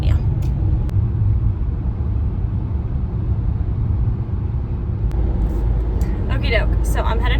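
Inside a car heading home on the road, a steady low engine rumble and road noise fill the cabin throughout, with a few brief sharp clicks and a voice rising faintly near the end.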